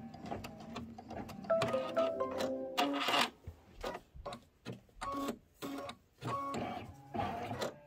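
An embroidery sewing machine stitches out a design, giving rapid mechanical needle bursts in uneven runs with short pauses and whirring motor tones, close and fairly steady.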